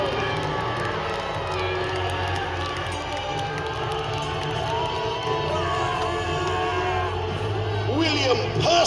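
Crowd cheering and whooping at a Battle of Hastings reenactment, a dense steady roar of many voices spread over a wide outdoor field, with shouts and children's cries rising near the end.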